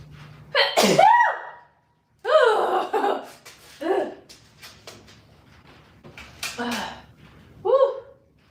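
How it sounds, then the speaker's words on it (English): A person sneezes loudly and close by, a sharp burst followed by several more gasping, spluttering sneezes and breathy exclamations spread over about eight seconds. "Oh, I gotta sneeze."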